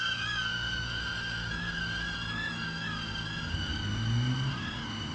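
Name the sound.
Hover Air X1 AI drone flying around the speaker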